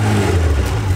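Close, loud car engine with a steady low droning exhaust note, held for a moment as if revving or idling, with no voices.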